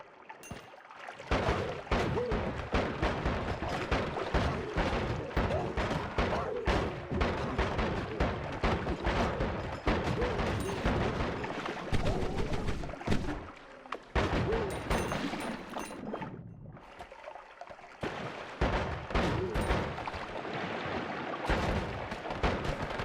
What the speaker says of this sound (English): You like bullets? Have some bullets!